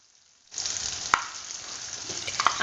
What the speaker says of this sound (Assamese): এইখিনি অকনমান সময় ভাজি লৈছো মাছৰ যাতে কেঁচা গোন্ধটো নাথাকে